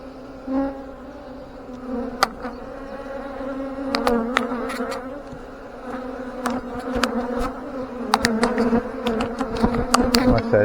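Honey bees buzz continuously around an open hive during an inspection on an overcast day, a dense, steady droning hum close to the listener, with sharper individual bee passes and clicks of frames scattered throughout.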